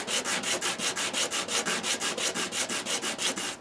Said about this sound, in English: a little piece of sandpaper on the bench, and I'm just going to rub it on here like this